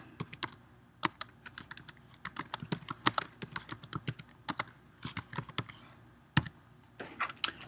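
Someone types on a computer keyboard into a text editor, producing close, crisp key clicks in irregular bursts with brief pauses between words.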